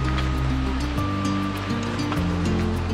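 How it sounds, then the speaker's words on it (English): Mountain waterfall on a hiking trail up toward Longs Peak, a steady, loud broadband rush of falling water filling the whole clip with no break. "you got this water source, waterfall"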